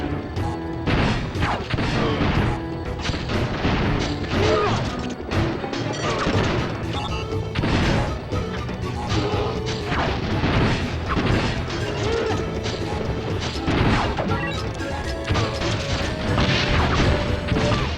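Missile blasts and crashing impacts from the Crash Bash video game, loud and continuous over busy game music, with repeated sharp hits scattered through the whole stretch.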